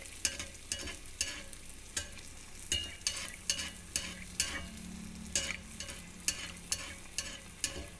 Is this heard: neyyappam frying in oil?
yes